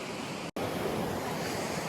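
Sea waves wash continuously against the shore at Muscat, a steady broadband surf hiss with a brief dropout near the start.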